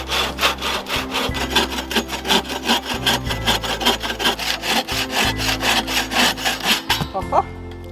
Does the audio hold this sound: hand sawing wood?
yes